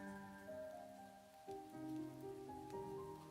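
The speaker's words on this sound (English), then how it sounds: "you could hear the rain, gaining in intensity as it poured down on the windows" Rain pours against windows, a soft steady patter underneath quiet, sustained music notes.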